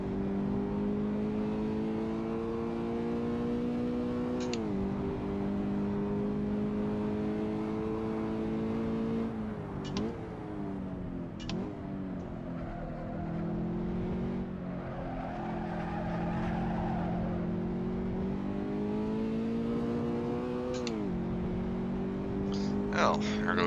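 A Toyota GT86 at full throttle around Zandvoort in a racing game, its engine droning steadily with rising pitch and sharp drops at each gear change, plus brief tire and shift noises.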